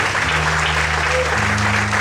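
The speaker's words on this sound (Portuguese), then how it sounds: "Então aplauda o Senhor" A church congregation applauds during a Portuguese-language sermon, a dense, continuous wash of clapping with a low sustained musical tone running underneath.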